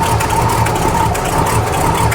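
A cold 454 big block V8 with an aftermarket alternator idles loudly and close, a steady lopey rumble with a faint whine running through it, heard alone.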